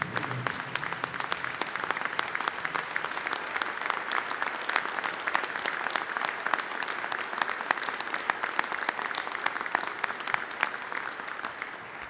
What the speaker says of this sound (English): would you please stand and join me in a round of applause for these men and women